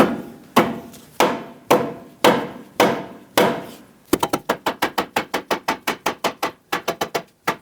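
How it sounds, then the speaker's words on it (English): A lower control arm on a 2013-2020 Nissan Pathfinder is hammered into place, giving six slower, ringing metal blows followed by a fast run of about twenty sharp, close strikes, with no talk. "You want to hit on the control arm itself."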